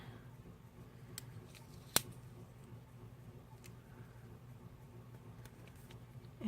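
Paper being cut with scissors, a few faint, sparse snips with one sharper crisp cut, in a quiet room.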